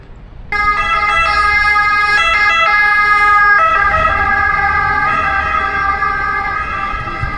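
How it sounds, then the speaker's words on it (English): A wailing emergency siren in Rome starts abruptly and blares loudly and steadily, its tone shifting partway through, over low traffic rumble. "When you're in Rome, you hear those sirens all the time."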